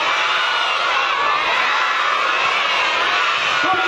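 Children in the audience at a fair puppet show in Úbeda shout and cheer together in a loud, continuous roar of high voices that stays constant from start to finish.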